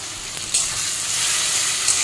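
Fish bones sizzle loudly in a pan with garlic paste, ginger paste, turmeric, red chili powder and salt for Bengali kata chorchori, a steady close frying hiss with occasional stirring scrapes.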